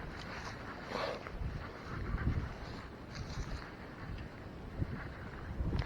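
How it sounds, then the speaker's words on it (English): Wind gusts buffet the microphone on a lakeshore bank while fishing, a low rumbling rush that swells and eases over the scene with no talking. "now the wind's picking up"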